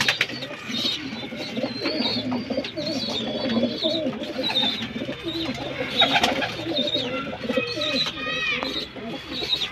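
Pigeons coo steadily on a rooftop loft as they feed their young, soft throaty calls overlapping with scattered chirps, close and continuous throughout.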